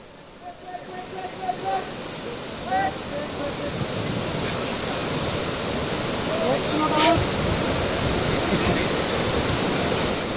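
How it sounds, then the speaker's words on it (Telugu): Rivers and streams overflowing after cloudburst rains in the Himachal Pradesh and Uttarakhand hills make a broad, continuous rushing roar of floodwater, loud and steady, with brief speech faint underneath. "ఏకతాటిగా కురుస్తున్న వర్షాలకు నదులు వాగులు వంకలు పొంగి పొర్లుతున్నాయి"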